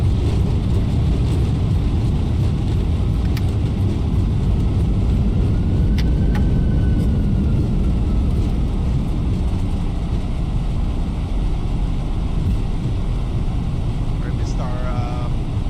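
Inside the cockpit of a Jet2 airliner rolling on the runway after landing at Stansted, a loud, steady roar of engines and rumbling wheels fills the whole stretch, with crew voices faintly beneath.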